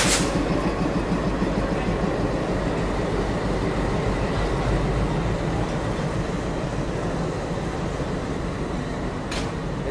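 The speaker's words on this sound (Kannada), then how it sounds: "ಸೊ ನಮ್ಮ ಗಾಡಿನೂ ಶಂಟಿಂಗ್ ಆದದ್ರಿ" Pune-shed WDM 3D diesel locomotive shunting the Poorna Express onto the platform track in light rain, a loud continuous rumble and drone with a brief sharp burst near the end.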